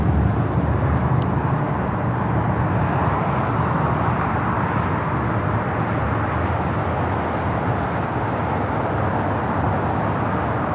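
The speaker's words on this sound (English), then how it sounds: "This is United Airlines 1464 taking off to Washington Dulles on the 757-300." A United Airlines Boeing 757-300 rolls for takeoff toward Washington Dulles, a sustained distant jet roar that holds steady at moderate loudness across the runway, with faint clicks on top.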